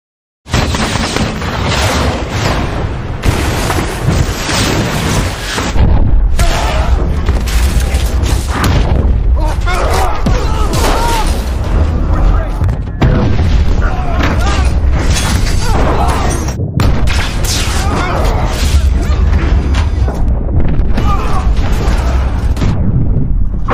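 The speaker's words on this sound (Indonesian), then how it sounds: "banyaknya roket yang meledak malah memberikan dampak besar bagi mereka" Rockets exploding around ships in a naval battle scene from a film, a loud rolling barrage of booms and rumbling blasts mixed with mechanical clatter and voices, continuous and heavy throughout.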